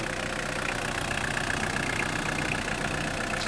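The cold 1.9 turbodiesel engine of a 1993 Citroën ZX Volcane idles steadily up close, a continuous even rumble with a faint knocking texture, no voices.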